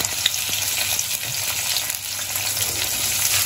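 Onions sizzle in hot oil, a steady bright crackling fry that holds constant and close throughout, with faint stirring noises and no talking.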